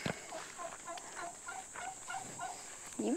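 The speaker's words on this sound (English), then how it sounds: "Oh, turkeys, watch out." Turkeys gobble repeatedly on a farm, a string of rapid warbling calls at moderate distance, with a steady background hiss and no talking.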